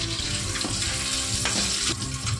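Whole garam masala and cumin seeds sizzle and crackle in hot oil, a dense, continuous frying hiss with occasional sharper pops and stirring scrapes, close and fairly loud.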